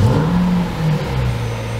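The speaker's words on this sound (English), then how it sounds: "in that supercar sound, you get that long crank to a nice startup" A Lamborghini Murcielago supercar engine cranks over at length and catches, giving a steady, close, rumbling drone with a low tone that shifts slightly as it settles.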